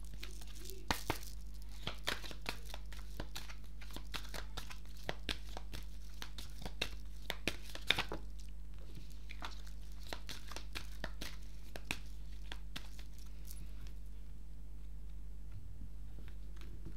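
Oracle cards being shuffled and drawn by hand, quiet crinkly rustles and light flicks scattered irregularly over a low steady hum, soft and close.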